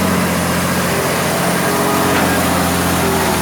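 A Hitachi ZX200 excavator loading laterite into a trailer truck, its diesel engine running loud and close in a steady, unbroken drone with a hum throughout.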